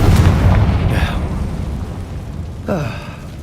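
The Confringo spell explosion in the video game Hogwarts Legacy, a deep rumbling blast at the start that fades out, followed by whooshing, sparkling spell effects.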